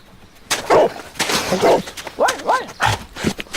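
A dog sniffing around and barking in the Sherlock Holmes: Crimes and Punishments video game, with a few loud, close barks and huffs coming in separate bursts over a low game background.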